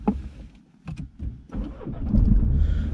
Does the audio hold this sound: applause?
no